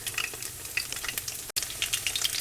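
Fish fritters frying in a pan, giving a dense, steady crackling sizzle close by with scattered pops and a momentary dropout midway.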